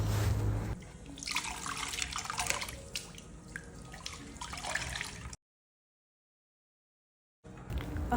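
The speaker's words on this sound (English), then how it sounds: "I'm still going to rinse, because you need to thoroughly rinse out those bleach out from the closure." Tap water runs and splashes as bleach is rinsed out of a hair closure at a sink, a steady close wash of water that cuts off to silence before starting again briefly.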